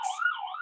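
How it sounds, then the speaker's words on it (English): Emergency vehicle sirens wail through Manhattan streets, a loud, continuous wavering tone rising and falling, fairly near and alone without talk. "And I'm sorry for the sirens."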